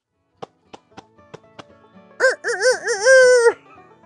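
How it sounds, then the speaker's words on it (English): A rooster gives a single loud, wavering crow, preceded by a few short, sharp clucks spaced out in quiet. "I don't know if y'all have ever heard a rooster trying to crow."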